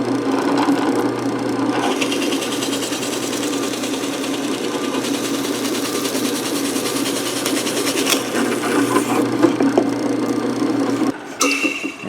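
A drill bores holes in a block of wood for a pliers stand, giving a continuous loud motor whir with grinding, chattering bursts as the bit cuts, then a short drop near the end before a brief restart, with no voices.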